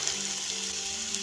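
Stir-fried vegetables for cabbage Manchurian crackle and hiss steadily in a hot pan as soy sauce goes in, a constant close sizzle without talk.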